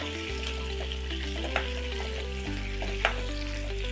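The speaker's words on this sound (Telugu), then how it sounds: "చూడండి, ఎగ్గులు బాగా ఫ్రై అయ్యాయి." Boiled eggs frying in oil with chilli powder, a steady sizzle with occasional stirring taps, over a low steady hum.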